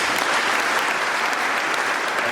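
A church congregation breaks into loud, sustained applause and cheering acclamation, a dense wash of clapping filling the hall without pause.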